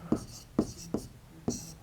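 Chalk or marker writing on a classroom board during a maths lesson, four separate short scratchy strokes spaced about half a second apart, close and fairly quiet, with no talk.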